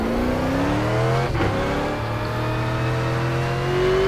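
A V8 Supercar engine lapping Road Atlanta in iRacing, loud and close, its pitch climbing steadily through a gear with a brief dip at a shift, droning on without voices.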